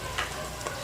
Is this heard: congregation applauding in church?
no